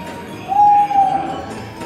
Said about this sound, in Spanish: Ah, sí, hay un pajarito de verdad ahí.